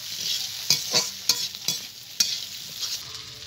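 Onion and capsicum frying lightly with eggs in a pan: a steady bright sizzle broken by several sharp scraping stir strokes, close and clear with no voices.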